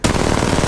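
A close, loud stream of rapid automatic gunfire from the Apex Legends Mobile video game, with shots hammering out in a tight, steady rhythm from start to finish.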